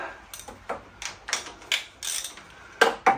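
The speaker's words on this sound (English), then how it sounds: "Here's my better ratchet. Harbor Freight ratchets for the win." A Harbor Freight ratchet works on a 1981 Goldwing GL1100 motorcycle, giving a steady series of sharp clicking strokes, about one or two per second, close and clear with no talking.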